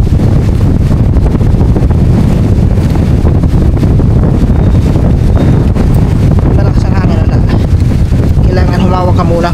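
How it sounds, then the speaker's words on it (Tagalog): Strong gusting wind roars and buffets the microphone at full volume throughout during palm toddy collection up a tree, with faint voices breaking through near the end. "Ito lang mahirap mga tuba pag ganito malakas ang hangin."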